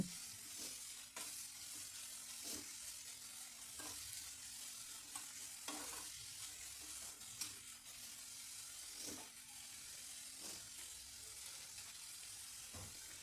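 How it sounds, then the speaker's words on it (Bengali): Turmeric stirred lightly in a pan of pumpkin for butter pumpkin soup, a steady soft sizzle with a spoon scraping the pan at regular intervals, close and fairly quiet, no voices. "হলুদ হালকাভাবে নেড়ে রসটা টেনে নিচ্ছি"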